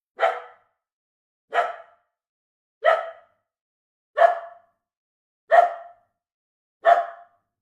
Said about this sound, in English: he started barking.